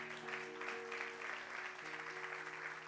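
Church congregation applause at a New York service, a continuous, fairly distant roar of many hands clapping, with steady sustained organ or keyboard tones humming underneath throughout.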